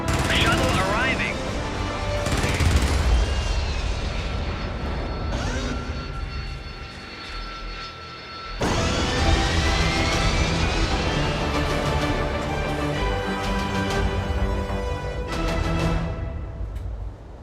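A spacecraft shuttle arrives in a video game, heard as a loud, sustained engine roar with sweeping rising whines and heavy rumble. A brief drop near the midpoint is followed by a renewed surge, and a voice talks over part of it.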